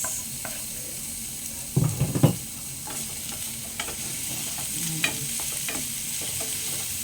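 Onions frying in a pan with garlic for a simple spaghetti sauce, a steady close sizzle with a few louder scraping stirs near the two-second mark and occasional clinks.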